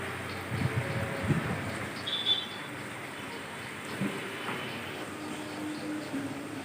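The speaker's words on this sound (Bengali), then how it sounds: "এখন দুপুর একটা এখনও বৃষ্টি হচ্ছে" Steady monsoon rain falls through a midday downpour on a waterlogged street, a soft continuous hiss with faint background noises and no clear talking.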